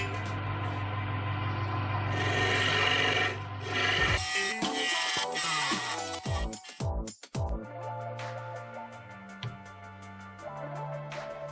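Sandpaper held against turning wood on a wood lathe makes a continuous close rasping hiss that later breaks into shorter, uneven scrapes and rubs.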